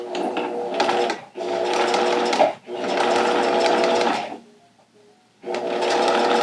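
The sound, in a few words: sewing machine stitching a vinyl pouch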